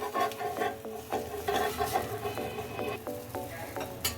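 Banana malpua frying in a pan as it is flipped, with a soft sizzle under clattering stirs and utensil taps at close range.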